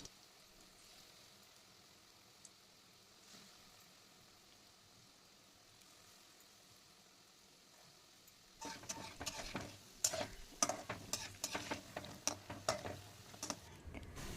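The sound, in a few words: lentil fritters (dal bora) frying in oil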